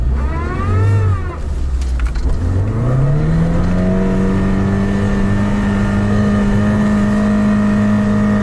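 An off-road vehicle engine is held at full throttle with the gas floored, climbing from a low rumble into a loud, sustained high rev that holds steady and close for several seconds, with no talking.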